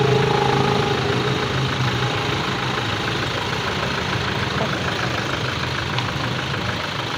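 A Toyota Innova diesel engine idles steadily, its even running rumble continuous and close for the whole stretch with no voices.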